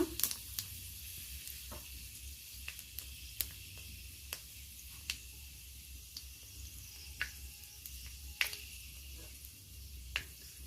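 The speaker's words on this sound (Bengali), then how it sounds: "ছোট চামচের 1 চামচ আমি ফোড়নও দিয়ে দিলাম, 5 ফোড়ন ব্যবহার করলাম ফোড়নের জন্য।" Panch phoron, the five-spice mix, sizzling in hot oil in a pan: a faint steady crackle with scattered sharp little pops and spits spread through, no talking.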